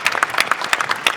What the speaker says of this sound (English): Maybe you should do the applause.